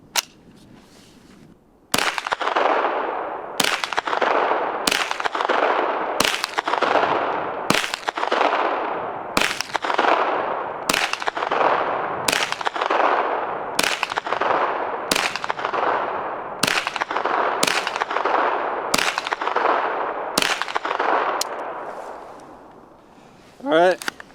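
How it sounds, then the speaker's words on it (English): A KelTec Sub2000 folding rifle fires about fifteen evenly spaced, sharp shots outdoors at a steady pace. Each report is loud and near and is followed by a short ringing decay, with silence before the first shot and after the last. "So we're gonna shoot a few rounds real quick and see how it does."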